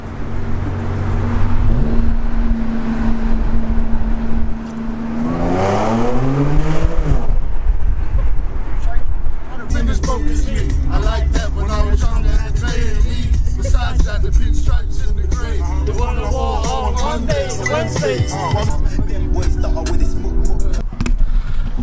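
A loud Audi S5 engine with a new aftermarket exhaust, run in dynamic mode, rumbles and revs through changing pitches, with a clear rising rev near the start and a busy, rasping exhaust note that continues throughout, while voices talk over part of it.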